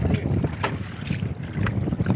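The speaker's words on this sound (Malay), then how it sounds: "Angin keras telah datang." Strong wind roars at sea around a small fishing boat, with steady buffeting microphone gusts and low rumbling water noise throughout, loud and close.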